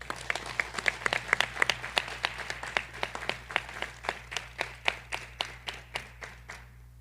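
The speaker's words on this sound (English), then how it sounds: "We could give them all a round of applause." A smattering of applause at an EMS graduation ceremony, distinct individual claps in an irregular but steady rhythm, moderately distant and fairly quiet over a low hum.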